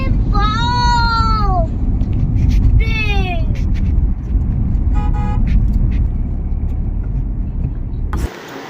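Steady road and engine rumble from a car cruising a smooth highway between Kolkata and Siliguri, with a voice talking over it, horn-like tonal bursts near the start, and a sudden drop near the end.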